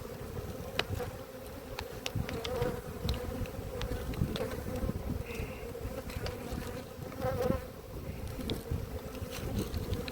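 Honeybees buzz steadily around an opened hive that holds a couple of empty queen cells. The hum is dense and continuous at close range, with faint rustles and light wind noise and no talking.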